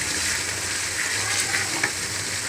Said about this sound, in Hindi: प्याज को हम पकाएंगे अच्छी तरह ब्राउन होने तक इसको पकाते रहेंगे।